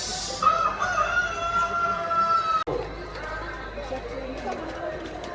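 A rooster crows once, long and clear, near a giant chicken-shaped building. The call runs for about two seconds, followed by outdoor background noise and people talking.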